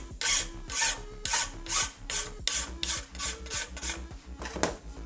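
A taper file is drawn by hand in about ten even, rhythmic rasping strokes, close and fairly loud, with short pauses between passes.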